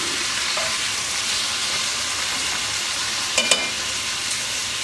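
Chunks of pot-roast beef sear on a bed of onions in a pot, giving a steady, close crackling sizzle throughout with a couple of quick utensil clicks near the end.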